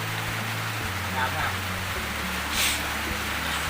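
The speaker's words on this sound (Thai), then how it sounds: "ตอนนี้ฝนตก อีกแล้วครับท่าน" Rain falling steadily at an outdoor fishing spot, a dense continuous hiss that stays at an even level throughout, with a low engine-like hum underneath.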